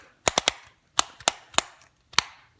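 Torque wrench tightening a lug nut, set to 40 foot-pounds: a series of sharp, loud clicks in quick pairs and triples with brief gaps, close up, with no voices.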